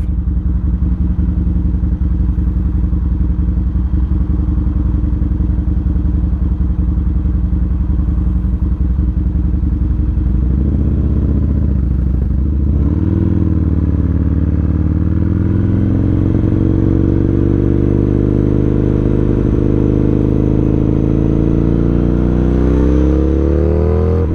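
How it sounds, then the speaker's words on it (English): A motorcycle engine drones steadily in summertime traffic, loud and close, its low rumble shifting pitch as the bike slows and then accelerates again, with no talking over it. "All this traffic, man, every day."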